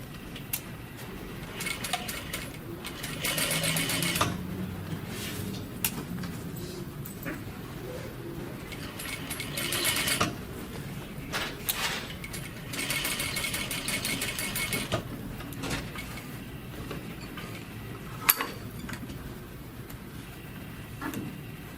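Sewing machine running a straight stitch across a shirt sleeve placket, steady mechanical whirring in bursts with short pauses, close by, with birds cooing in the background.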